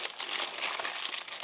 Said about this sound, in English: what I'm going to do is line it with parchment paper. But the trick to this is to crumple it up